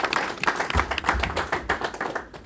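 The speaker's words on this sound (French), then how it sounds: "Sur vos acclamations, bien sûr." Audience applause at an evangelical mission's anniversary ceremony, a steady patter of hand claps from a room of people, moderately close and continuing throughout without speech.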